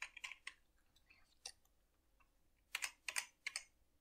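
Keys on a gaming computer keyboard clack in quick bursts, faint and close, with short pauses between clusters of clicks.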